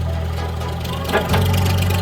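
Kubota L3608 four-wheel-drive tractor with a three-cylinder direct-injection diesel running near at a steady idle, a low throbbing hum with a slight knock that shifts pitch partway through.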